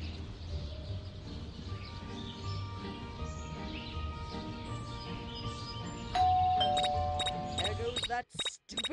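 A doorbell in the Scary Teacher 3D video game rings out in bright repeated tones near the end, over game music and background sound.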